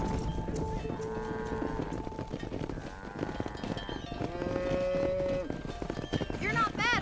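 A cattle herd in the Red Dead Redemption video game lows with repeated moos over steady hoof clip-clop and running, amid a dense, continuous game soundscape.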